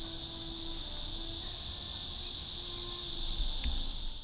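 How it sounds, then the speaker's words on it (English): Loud cicadas in a Shanghai garden on a hot summer day, a dense continuous high-pitched buzzing drone that fills the air without pause. "These cicadas are so loud."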